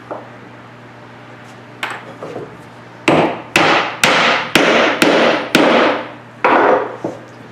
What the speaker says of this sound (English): Now I'm hammering on the edge of this